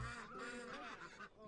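Ducks on a farm in the city-building game Settlement Survival quack in a soft, continuous, nasal chatter, faint and steady beneath a low background hum.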